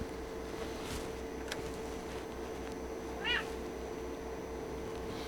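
A single short cat meow sounds near the middle of a quiet indoor stretch, close and fairly faint.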